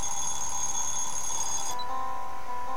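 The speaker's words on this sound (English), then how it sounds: "I was woken up by the noisy alarm clock." A video game alarm clock rings loud and steady with a bright electronic tone, then shifts pitch partway through, with no voices over it.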